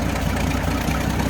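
A 1967 Chevrolet C10 pickup's 250 cubic inch inline-six engine idles smoothly on a new battery. The low, continuous rumble is steady and close, with a slight exhaust leak.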